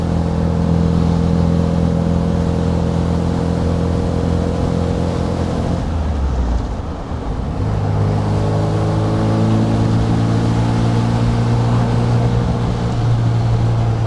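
A classic car cruises at about 50 mph in fifth gear, its engine a steady, loud droning hum from inside the cabin that briefly dips and shifts pitch midway before settling back into the drone.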